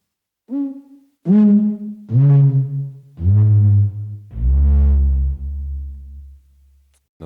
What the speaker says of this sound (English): This is a short-eared owl.